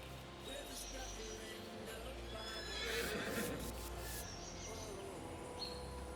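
Horses in Farming Simulator 22 whinny loudly over a steady farmyard ambience, with a soft clip-clop of hooves and faint birds and insects in the background.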